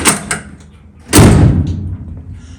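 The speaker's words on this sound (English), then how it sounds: "I also massaged that lip in a little bit so that at least the door opens now" Car door on a 1964 Chevrolet Chevelle under restoration, with a reworked lip, swung and shut in a garage: a couple of light metallic clicks, then one loud close-by thump with a short rattling tail.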